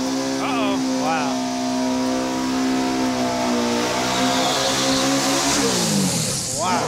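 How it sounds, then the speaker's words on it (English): A Volkswagen-powered dragster revs hard during a tire burnout at a drag-racing event: a loud, sustained engine roar with rising and falling pitch sweeps that climbs steadily toward the end. "Let's burn these tires."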